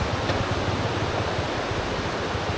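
A river in the Philippines gives a steady, dense rush of flowing water, constant and fairly loud throughout with no voices.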